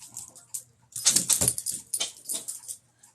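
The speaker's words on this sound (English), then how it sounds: "he runs around making squeaky noises in his toys" A dog plays excitedly with a squeaky toy, giving bursts of high squeaks and scuffling in irregular clusters, close and moderately loud, with short pauses between flurries.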